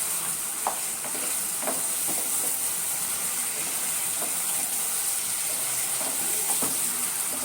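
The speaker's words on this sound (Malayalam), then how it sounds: "നമുക്ക് ഈ വറുത്തെടുത്തതിന് ഇതിലേക്ക് കൊട്ടി കൊടുക്കാം. എന്നിട്ട് നന്നായിട്ട് ഇളക്കി കൊടുക്കാം." Fried cauliflower for gobi manchurian stirred through sauce in a hot pan, with steady sizzling and hiss under scattered scraping and clinking of a spoon against the pan.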